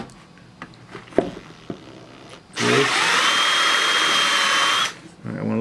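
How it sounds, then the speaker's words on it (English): Power drill boring a hole out to 3/8 inch during a BMW E46 3 Series iPod adapter install, a loud continuous whine lasting about two seconds after some light handling clicks and bumps. "Let me drill it out to 3/8, which is what it says it should be."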